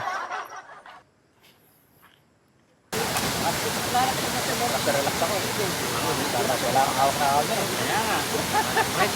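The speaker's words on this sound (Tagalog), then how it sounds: "Ang ganda pala ng waterfalls, oh." Pari Falls, a waterfall where many people are bathing, gives a steady, full roar of rushing water that begins abruptly after a short quiet stretch, with people talking and laughing nearby before the water noise takes over.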